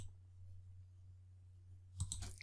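A couple of quick mouse clicks while editing in Photoshop Elements 2020 come near the end, sharp and close over a steady low electrical hum.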